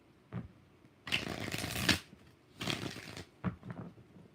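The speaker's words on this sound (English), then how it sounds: "2 more shuffles for Shaylee." Close, fairly quiet shuffling of a tarot deck, with a short tap, two longer riffling bursts and a final brief flick, and no voice over it.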